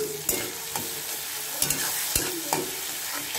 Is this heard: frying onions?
yes